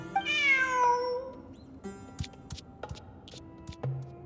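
A cat meows in Genshin Impact, a drawn-out, rising and falling call at the start, followed by a few soft taps and clicks, with no talking.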